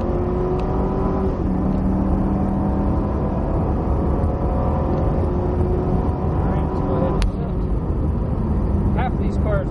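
Cadillac CTS-V accelerating at full power down a racetrack straight, heard from inside the car as a loud, continuous engine drone that rises in pitch with a gear change, while a person talks over it.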